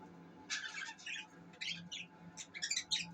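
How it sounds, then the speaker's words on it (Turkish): Cockatiels in an indoor bird room give soft, fairly distant chirps and short squawky calls in uneven bursts, becoming busier toward the end over a low room hum. "Burada her zamanki gibi sultanlarımız var."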